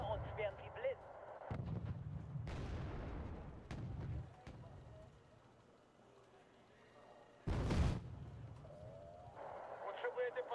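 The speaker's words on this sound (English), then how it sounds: "Let's get some more mortar spam going for those forest fights." Mortar fire in a real-time strategy video game, with several heavy booming launches and impacts spaced irregularly, one especially loud burst near the end, over quieter game effects.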